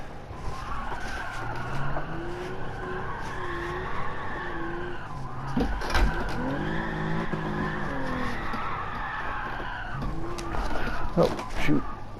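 A car in Gran Turismo 7, driven with a sim wheel, slides with wavering tire squeal over a steady engine drone, with several squealing slides in succession; a voice talks over it.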